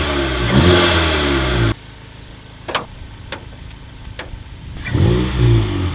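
A VW MK7 GTI fitted with a carbon fiber intake revs outdoors, loud engine surges at the start and end framing a quieter stretch with a few sharp pops or clicks, wind buffeting the microphone.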